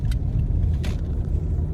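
A car on a road, heard as a steady, loud low rumble of a passing or followed vehicle, with a couple of brief higher hissing bursts over the continuous drone and no talking.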